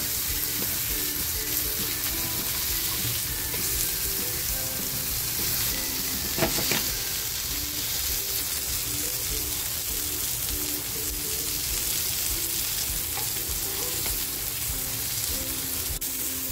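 Mackerel fries in a pan for a Malvani-style tikhle with a loud, continuous close-up sizzle. A brief clatter breaks in midway.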